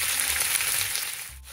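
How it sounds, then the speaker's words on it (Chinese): Pork belly fries in a hot wok with a little oil, giving a steady, loud, close sizzle that runs unbroken with no voices. "放咗落去唔好喐佢，由得佢煎一陣乾"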